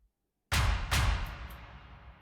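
A heavy percussive hit sample from an Afro House beat, with a sharp attack, a second hit about half a second later, and a long decaying tail, loud and alone.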